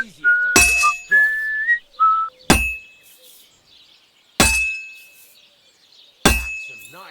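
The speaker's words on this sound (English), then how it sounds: "That's some nice whistling." A character in Kingdom Come Deliverance 2 whistles a short melody while forging a sword, the tune broken by loud, ringing hammer strikes on metal spaced a couple of seconds apart.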